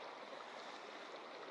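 Flowing stream water in a video game, a soft, continuous, even rush of running water heard alone at low level with no voices.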